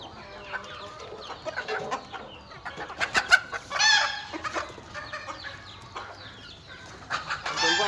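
Chickens and roosters cluck and squawk nearby in a farmyard flock, with irregular overlapping calls and a louder crow-like burst in the middle.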